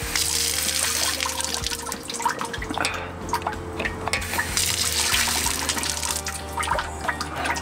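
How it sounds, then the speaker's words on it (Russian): Water from a drinking fountain fed by Alpine mountain water runs and splashes steadily close by, with small drips and gurgles over the constant flow. "с альпийских гор течет эта вода"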